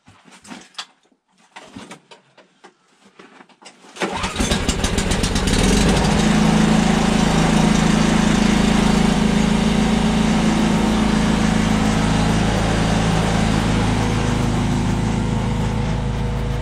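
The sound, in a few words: small engine cold starting and idling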